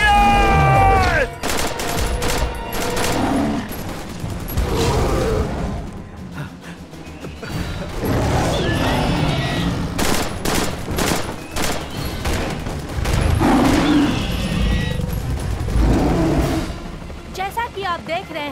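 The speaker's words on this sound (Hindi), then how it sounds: "फायर! फायर! गोलियां चलाओ!" Soldiers firing guns at dinosaurs in Jurassic World Dominion, loud bursts of rapid gunfire and crashes over a dense action-movie mix with shouting voices, roars and music throughout.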